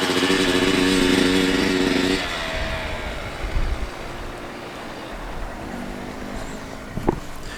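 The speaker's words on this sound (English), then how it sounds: "She's getting like so much better at riding that dirt bike around." Dirt bike engine buzzing steadily and loud while ridden nearby for about two seconds, then fading into a quieter, more distant putter with occasional bumps.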